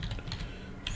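A computer keyboard is typed on in a quick burst of several light key clicks, close and clear, with no one speaking.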